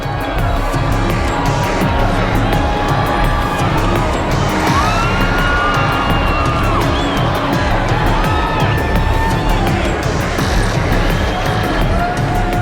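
A large crowd cheers and whoops steadily as the burning effigy falls at a desert festival, a dense wash of shouts and babble with scattered high cries and distant engine and siren-like tones.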